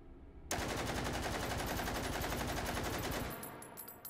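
A full-auto Czech gun in the VR game Hot Dogs, Horseshoes & Hand Grenades opens up after a short pause, a loud, fast continuous burst that cuts off near the end, followed by a few faint clicks.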